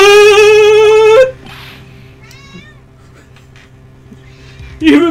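A cat lets out a long, loud meow up close, then a quieter stretch with a faint voice in the background, and a second short meow at the end.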